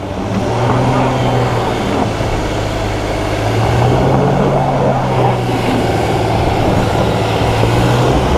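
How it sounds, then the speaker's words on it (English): Wheels on a 2023 Kia Telluride X-Line spin without traction off-road, with a continuous loud engine drone and strained revving under rough, noisy crunching, close by. "we got that wheel not getting traction and that wheel not getting traction, and the system's really struggling"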